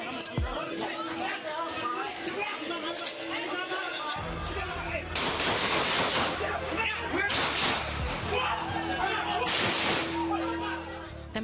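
Several sharp warning gunshots ring out over a noisy, agitated crowd at a murder crime reconstruction, with loud bursts and shouting spread across the scene.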